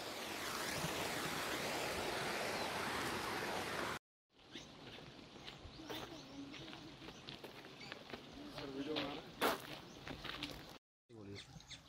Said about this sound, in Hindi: इतना नेचर हैगा सारा, झरना साथ में चल रहा है हमारे